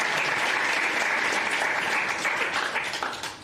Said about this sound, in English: Terrific. Bit of a clap.